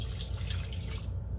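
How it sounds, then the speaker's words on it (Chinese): A bowl of water goes into a hot, oiled wok holding homemade dumplings, making a steady, close, even hiss of water meeting oil with no voices. "落咗啲油啦，跟住就落一碗水啦"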